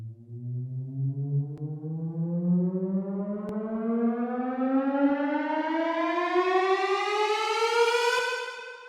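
A smooth synth tone sweeps steadily upward in pitch for about nine seconds, rising and building in intensity before cutting off.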